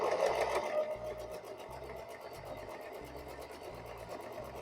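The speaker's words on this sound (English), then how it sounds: "you don't want to sit and watch me sew 18 pieces in a chain" Sewing machine chain-piecing quilt top pieces, a steady run of stitching with a rhythmic low thumping pulse, close and continuous throughout with no talk.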